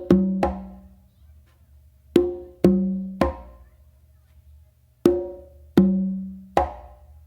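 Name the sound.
conga open tone followed by close slap, makuta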